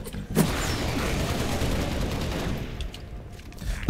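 Rapid rifle gunfire from Covenant enemies in Halo: Reach, a dense, continuous fusillade of shots filling the whole stretch with a sharper burst near the start and another at the end.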